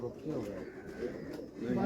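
Racing pigeons coo softly at close range, a few low, rolling calls rising and falling against a quiet background, with a voice talking over them.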